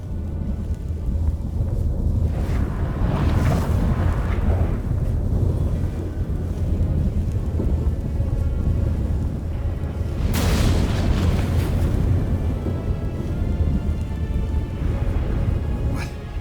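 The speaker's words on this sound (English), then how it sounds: "What the? That a storm?" A stormy scene in The Witcher 3 game, with a constant roar of wind and rain and deep rumbling booms of thunder, including a sharp crash near the middle, filling the whole stretch.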